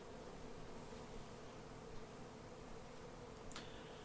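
Honey bees droning steadily around hive frames as a colony is moved from a rotten tree, a continuous close buzz with no voices and a brief sharper tick near the end.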